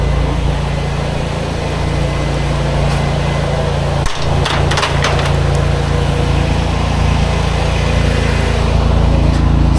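A pressure washer rinses townhouse siding with a steady loud hissing spray that runs the whole time, and a brief knock cuts through it midway.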